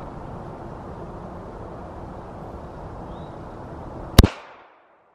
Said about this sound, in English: I'm gonna shoot this one more time just to get a proper comparison